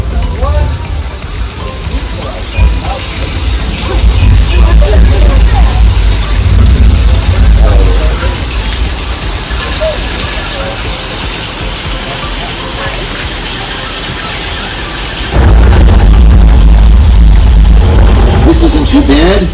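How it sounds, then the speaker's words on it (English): A simulated flash-flood downpour on the Universal Studios Hollywood backlot tour roars loud and steady for about twenty seconds, surging heavier near the end, with voices mixed into the wash. "because we got some rain."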